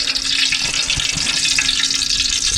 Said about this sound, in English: all that popping, all that's just water, whatever water was left on the